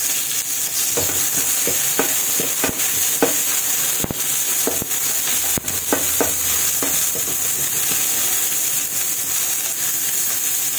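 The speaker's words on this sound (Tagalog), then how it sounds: "Igisa ko lang sibuyas." Onion and garlic sauté in hot oil in a pan for a home-cooked tuna dish. A steady, close sizzle runs throughout, broken by repeated scraping clinks of stirring.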